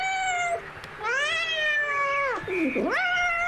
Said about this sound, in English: Cat interruption.